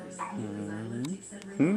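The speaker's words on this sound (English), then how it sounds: "That's my dog." A dog gives a quick whimpering bark and yip, close by, mixed in with a person talking over it.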